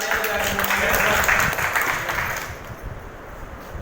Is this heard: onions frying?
no